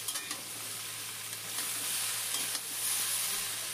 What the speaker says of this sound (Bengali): কুমড়ো আর শিমের মধ্যে সামান্য একটু হলুদ গুঁড়ো দিয়ে কুমড়ো শিমটাও ভেজে নেব